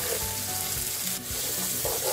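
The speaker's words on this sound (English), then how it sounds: "We're going to cook our tomatoes down nicely for another 3-4 minutes." Chopped tomatoes with green chilli fry and cook down in a pan for an egg roast, giving a continuous close sizzle with soft stirring.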